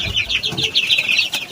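Chickens on a small flock where some birds are suffering paralysis cluck in quick, repeated bursts, fairly loud and close, with a light rustle of movement beneath.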